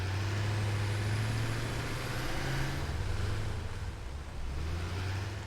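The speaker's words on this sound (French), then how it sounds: "Je vais essayer de monter avec le tracteur" A tractor in the video game Satisfactory climbs a slope, giving off a loud, steady low engine drone that holds for the whole stretch with no speech over it.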